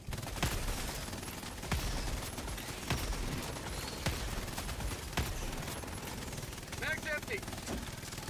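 Sentry turret gunfire in Helldivers 2, sustained rapid automatic bursts with sharp repeated shots over a steady battle din, plus a brief electronic chirp near the end.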